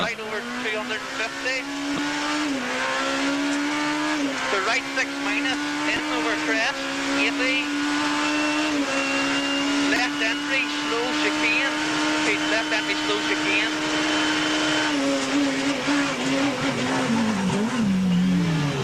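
A rally car, an Apollo, races at full power near its rev limiter during a rally stage, its engine note droning high and steady with pitch shifts, under continuous commentary.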